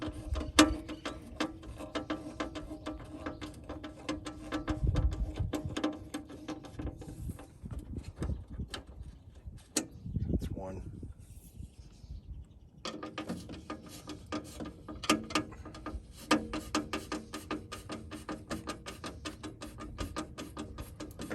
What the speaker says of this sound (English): So I'm going to take these screws loose and separate the track from the window.